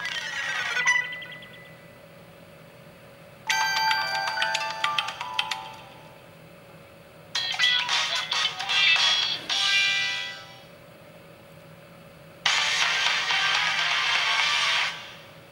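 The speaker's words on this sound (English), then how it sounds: "Everything with a number on it is the special ringtone for this phone." A special Hatsune Miku ringtone on a Sony Xperia phone plays in three bright, loud melodic bursts of a few seconds each, separated by short pauses, with a faint steady hum underneath.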